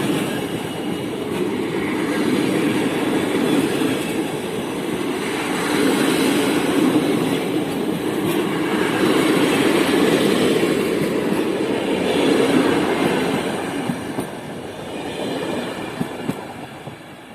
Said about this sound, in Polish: Tak więc pociąg Intercity Matejko odjechał.